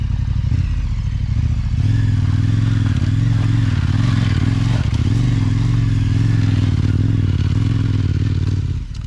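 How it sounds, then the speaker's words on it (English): A 1292 motorcycle on Mitas E07 tyres rides through trees on a hillside, its engine droning loud and close with steady pulsing tone and slight rises, plus faint clatter of terrain. "This is great fun on a 1292, playing in the trees like this."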